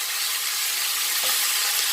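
Pork steaks sizzle steadily in a frying pan on a hob at full power, a loud, continuous close-up hiss with no voices over it.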